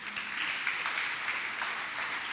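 A church congregation applauds during a sermon, a continuous, even wash of clapping heard at moderate distance without pauses.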